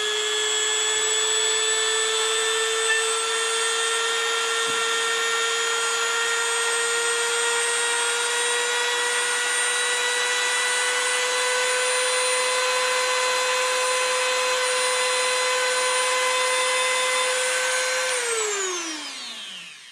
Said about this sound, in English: Just take some polishing compound, which I've already got on here, and give this a polish.